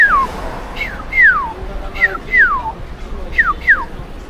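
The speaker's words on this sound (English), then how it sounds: "Pay close attention to the premium bird noises at the traffic lights." Electronic bird-like chirps from a traffic light crossing signal, a series of about seven short descending whistled tweets arriving in pairs and spaced irregularly, clear over low street background.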